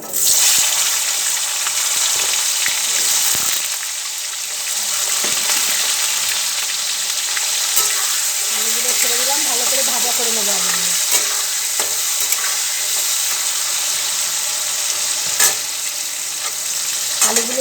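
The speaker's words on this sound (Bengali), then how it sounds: "কড়াইতে তেলটা অলরেডি গরম করে নিয়েছিলাম আমি এইবারে আলুগুলো ছেড়ে দিলাম" Potatoes hit hot oil in a wok already tempered with cumin seeds, giving a loud, steady sizzle and fry that runs throughout with occasional stirring scrapes and faint background voice.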